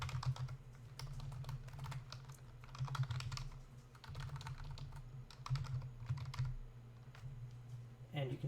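Computer keyboard typing in quick bursts of close, crisp key clicks with brief pauses, set against a steady low hum, while someone browses and searches a Drupal web admin page.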